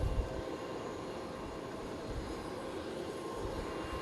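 An aircraft taking off at Fukuoka Airport, heard as a steady, broad engine roar at a distance that holds an even level throughout, with no voices.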